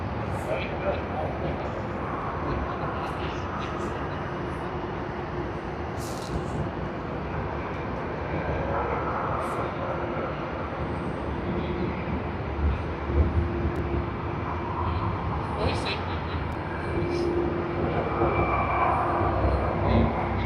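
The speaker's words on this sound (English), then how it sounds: "We also have the Boeing 777 coming in, presumably Cathay Pacific." A Boeing 777 airliner, presumably Cathay Pacific, comes in to land at Sydney Airport, its steady broadband engine roar holding at moderate level throughout with faint voices in the background.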